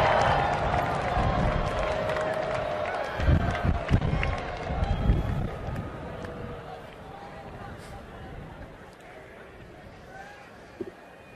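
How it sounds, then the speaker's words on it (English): A graduation crowd at a university commencement cheers and applauds for families and friends. The roar is broad and sustained, swelling in the middle and then fading as a speaker's voice comes through. "stand up and wave and cheer your supportive family and friends"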